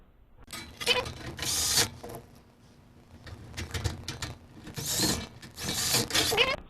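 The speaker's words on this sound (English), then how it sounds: "I'll start with putting 2 screws into the wall of the turbo" Screws are driven into the wall of a tin turbo cover during bench assembly, with bursts of whirring, rattling driver noise in several close, loud spells separated by brief pauses.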